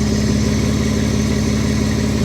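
A Mitsubishi Diamante with about 230K miles and a possible exhaust leak runs steadily at idle, a loud, close, continuous engine drone with no voices.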